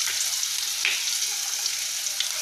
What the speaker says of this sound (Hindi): इस प्याज को हम फ्राई करेंगे